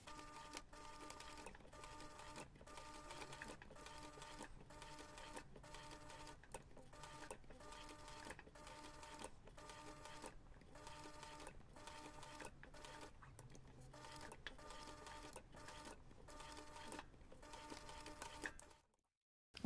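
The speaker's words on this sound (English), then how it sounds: "you can take this to the machine and top stitch around the entire piece" A sewing machine top stitches around the edge of a fabric Christmas tree ornament, running in short rhythmic bursts of rapid needle clatter separated by brief pauses, faint and close, ending abruptly.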